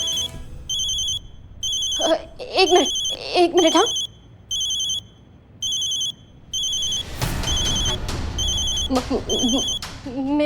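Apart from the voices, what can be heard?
telephone ringing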